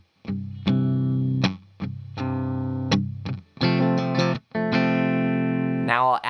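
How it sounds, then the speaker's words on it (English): Dry, slightly distorted electric guitar chords with no reverb ring out close and clear, several strummed in a rhythmic sequence from a song lesson, each cutting off cleanly between phrases. "If I turn off the reverb, it'll sound a little bit more what I call a dry guitar tone."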